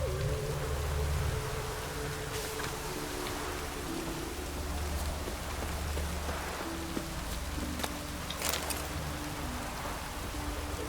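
Rain pours in The Witcher 3, a constant hissing patter of drops on the ground with scattered sharper drips and low background rumble, steady and unbroken with no speech.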